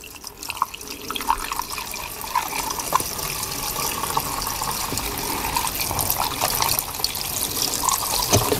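A two-stroke fuel mix of eco petrol with oil at 40:1 (2.5%) is poured up close while refuelling a pile auger that has stood idle for three years, giving a continuous trickling, splashing liquid stream that builds steadily.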